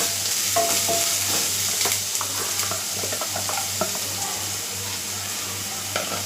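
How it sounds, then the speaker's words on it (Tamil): Four sliced onions fry in oil with fennel seeds, a constant close sizzle layered with frequent stirring scrapes and taps over a low steady hum, with no voices. "அது இப்போ நல்லா வெங்காயம் பொரிஞ்சு வரட்டும்."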